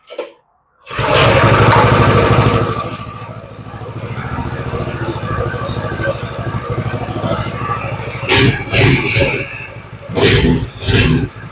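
A 212 minibike engine starts and runs on full choke while still cold, a loud rough roar that settles into a steady uneven idle, with blips of revving near the end.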